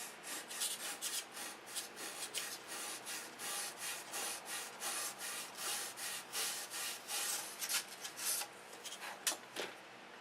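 Steady, rhythmic rasping strokes of a sanding block rubbing over wood, close up and continuous, with no voices.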